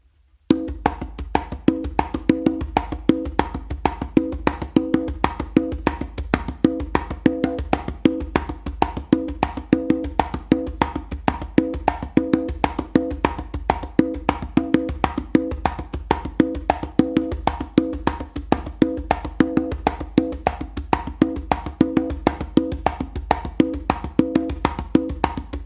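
Slappy tumbao conga rhythm played steadily and loud for the whole stretch, dense repeating hand strikes with sharp slaps in a continuous groove, no voices.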